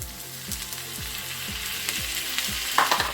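Fresh shrimp frying in a hot pot with onions, sizzling steadily and close up, with a repeating low knocking pulse and a few utensil clinks near the end.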